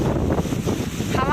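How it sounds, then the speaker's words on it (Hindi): Strong wind during a heavy storm with pouring rain roars steadily across a rural vegetable plot of bottle gourd and eggplant, a dense, buffeting rush close to the microphone. "हवा आपको सुनाई दे रहा होगा,"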